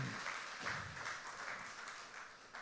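Congregation applause during a bilingual Spanish-English church sermon, a continuous roomful of clapping with slight surges, moderately distant and fairly soft throughout.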